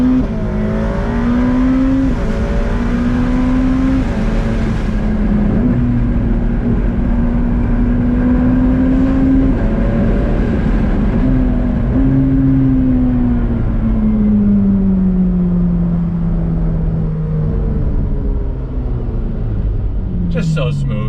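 A 2020 Ferrari F8 Tributo Spider engine pulls hard on throttle, its loud tone climbing smoothly through the revs with brief dips at shifts, heard from inside the car as someone talks over it.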